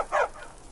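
A single short dog bark from Skyrim Special Edition, a brief yelp-like burst at moderate loudness, followed by quiet game ambience.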